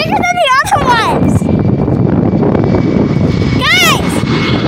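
A large aircraft engine roars loudly and steadily at an airport, a near, dense rumble that fills the whole stretch, with excited voices and squeals breaking in over it at the start and near the end.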